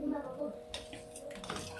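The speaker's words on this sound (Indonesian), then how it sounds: "sambil aduk teman-teman ya, biar nggak pecah ini" A spoon scrapes and clinks against a metal pot while stirring coconut milk with palm sugar over low heat, with a voice speaking over it nearby.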